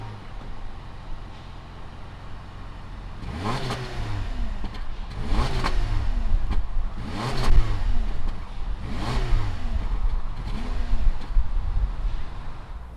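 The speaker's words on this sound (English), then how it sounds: "fire up this Impreza and see what it sounds like" A 2020 Subaru Impreza engine fires up and is blipped through about five sharp revs, each climbing and falling back to idle, close and fairly loud with no talk.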